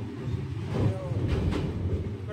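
Vivek Express train rumbling across the Brahmaputra bridge, heard from the open doorway as a steady low roar of wheels and wind with some clattering.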